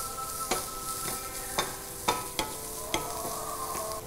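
Onions being sautéed and stirred in a pan with a steady sizzle, broken by regular scraping stir strokes about every half second, close and alone.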